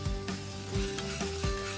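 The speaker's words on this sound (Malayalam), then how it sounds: "കുറച്ച് കടല വറുത്തെടുക്കണം." Chickpeas dry roasting in a pan, stirred at intervals with a scrape against the metal, giving a steady close sizzle and rattle with three distinct stirring strokes and no talk.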